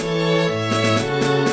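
A bright, buzzy 8-bit Game Boy-style chiptune lead plays a short phrase with a second voice harmonizing beneath it, loud and steady.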